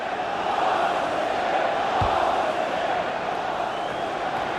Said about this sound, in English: Oh, the crowd love that, you know.